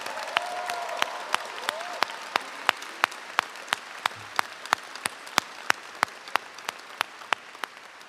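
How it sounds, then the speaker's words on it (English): Audience applause at a college convocation ceremony welcoming the incoming class at Ithaca College, steady crowd clapping with occasional louder sharp claps throughout, no voices over it. "I think we need another round of applause for the class of 2026."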